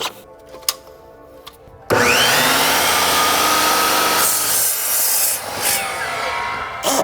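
A loud, steady power-drill whine biting into wood pieces on a couch, starting abruptly after quiet handling sounds and running for several seconds.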